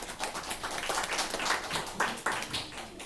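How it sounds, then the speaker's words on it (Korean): An audience at a social welfare practicum orientation gives a dense burst of clapping, broad and lively, rising and falling in waves for about three seconds without any voice over it. "다시 한번 박수."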